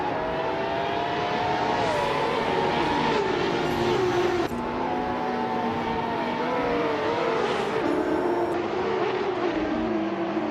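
Race cars, including Ferrari F50 GTs, on a street circuit in a racing video game; several high-pitched engine whines rise and fall as gears shift, loud and continuous with no talking.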